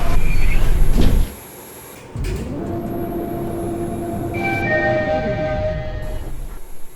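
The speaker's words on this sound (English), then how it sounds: "Door closing." Lift doors closing in a shopping mall in Lancaster, a sliding door motion with a brief hush, then a steady motor hum and tonal whine as the lift runs, with close mechanical rattling.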